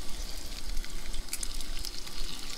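Donuts frying in hot oil, cooked outdoors at a creek, giving a continuous close crackling sizzle with a low rumble of open air beneath it.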